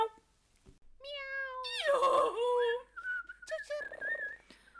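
A cat meows loudly and close, a long wavering cry followed by a shorter one, with a whistle-like tone and a human voice mixed in around it.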